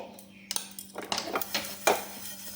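Spices for a green chilli pickle are stirred in a hot pan over a medium-low flame, with a run of sharp metallic clinks and scrapes from the utensil against the pan.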